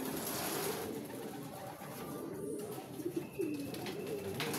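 Racing pigeons cooing at close range, soft repeated throaty coos in an uneven rhythm over low background hum, with no talk.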